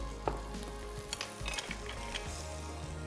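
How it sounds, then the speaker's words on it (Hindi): Capsicum and peanuts fry in a hot pan with a steady, close sizzle and crackle, a few sharper pops breaking through now and then. "अब इस स्टेज के ऊपर हमने कैप्सिकम और ये पीनट्स ये डाल देनी है।"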